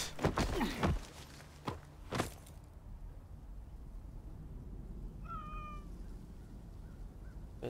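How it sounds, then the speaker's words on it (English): A cat in the video game Assassin's Creed Origins gives one brief meow partway through, preceded by a few soft thuds and footsteps over a quiet background. "The cat."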